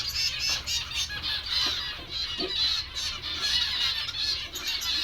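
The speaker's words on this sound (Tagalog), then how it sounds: "Daming ibon." A crowd of hungry birds call over one another outdoors while feeding, giving a continuous jumble of honking, goose-like squawks at moderate volume with no talking.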